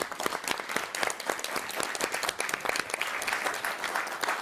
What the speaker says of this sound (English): just round of applause for y'all